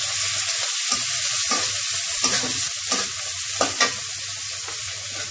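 Onion frying in a hot pan on high heat alongside sliced potato, a constant hiss with repeated clattering stirs of a utensil against the pan, close and steady.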